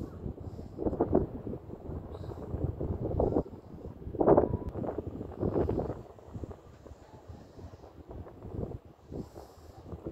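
Strong wind off the Pacific Ocean roaring across the microphone in uneven gusts, with a louder blast near the middle, continuous and close.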